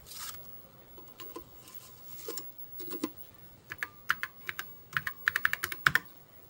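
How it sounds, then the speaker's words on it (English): Keys clatter on an Apple IIe computer keyboard, a few scattered taps at first that build into quick bursts of crisp, close clicks, with no voices. "I'm going to type in another."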